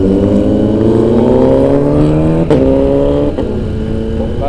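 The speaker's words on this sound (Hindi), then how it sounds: "साउंड सुन रहे हो यार दोनों बाइकों का" Two motorcycle engines, one a Kawasaki Z900, rev loudly and steadily, their pitch climbing together, with a brief sharp change midway as one drops back before rising again.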